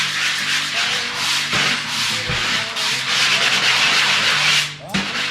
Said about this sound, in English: If there's a fat edge, I'll sand it.